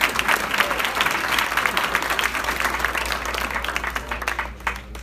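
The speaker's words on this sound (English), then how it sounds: "another round of applause" Sustained applause from an audience at a black-tie awards gala, dense steady clapping at moderate loudness throughout, with some crowd murmur underneath.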